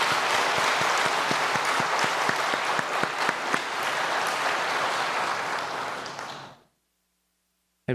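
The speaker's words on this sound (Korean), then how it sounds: "키보드 반주자님, 여기 피아노 반주자님 위해서 박수하겠습니다." Applause at a church Sunday afternoon service for the keyboard and piano accompanists: a full congregation clapping steadily and loudly for about six seconds, then cutting off into silence.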